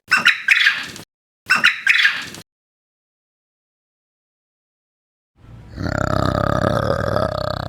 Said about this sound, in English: A quail calls.